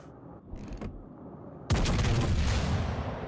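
Warship main guns fire in World of Warships Legends, a quiet stretch of faint mechanical clicks broken by a sudden loud thunderous salvo that rolls on as a heavy sustained roar.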